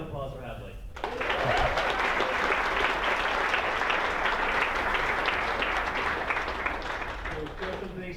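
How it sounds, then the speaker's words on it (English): Sustained applause from a data science meetup audience, starting abruptly after a second and continuing loudly and evenly with dense clapping throughout, tapering slightly at the end. "One more round of applause for Hadley."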